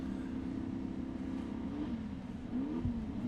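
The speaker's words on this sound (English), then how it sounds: "The love bugs are ready to make some noise." Class 11 Baja Bug race cars rev their engines at the Crandon off-road world championship on a Friday night. The loud, steady growl fills the whole stretch, and the pitch swells and sweeps as the throttle rises near the end.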